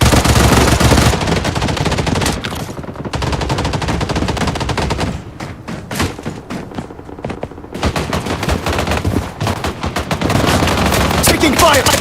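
Dense, rapid automatic gunfire in the mobile shooter Blood Strike, loud and close with overlapping bursts and single shots, dipping briefly mid-way before heavy firing resumes.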